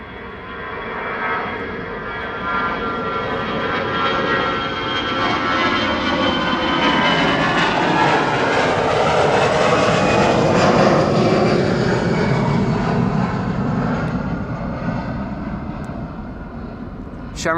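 A Shamrock passenger jet, flight 609 bound for Dublin, Ireland, roars steadily on departure, its broad engine rumble rising and sweeping in pitch before fading slightly, with a voice talking over it.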